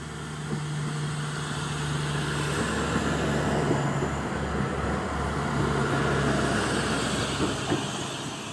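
A passenger train pulls away from Zvolen station, a continuous low rumble and rolling rail noise with a steady hum, loud and close, with faint clunks mixed in.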